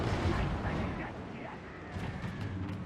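Dark Elf blast in the Warhammer strategy game Mortal Empires campaign: a rumbling, crackling explosion wash with dense low booms and scattered pops, fairly quiet and sustained, with a voice speaking over it.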